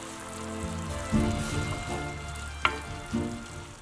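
Smoked lardons and chopped red shallot frying in butter in a pan, a steady close sizzle with occasional louder spits and a sharp clink of a utensil against the pan.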